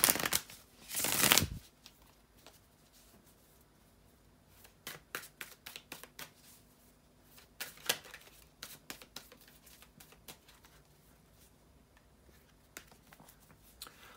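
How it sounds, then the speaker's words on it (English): Tarot cards are shuffled close up: a loud riffle at the start, then scattered soft snaps and taps of cards being handled, with no talking. "bear with me a second, guys, to shuffle the tarot cards"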